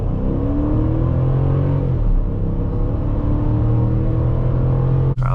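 A 2005 Chrysler 300C with its 5.7-litre Hemi V8 pulls hard at full throttle, a loud, steady engine roar rising in pitch over several seconds, heard from inside the car, ending with a brief click.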